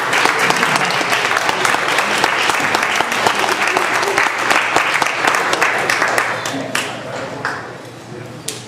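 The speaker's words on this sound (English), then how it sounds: "So I'm going to ask you if you would please give a warm round of applause to Ira Sinclair Jr." Warm applause from a hall audience, loud continuous clapping that fades toward the end, with a few cheers mixed in.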